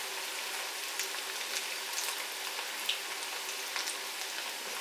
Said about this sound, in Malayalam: അത് നന്നായിട്ട് ഫ്രൈ ആയിട്ട് വരട്ടെ.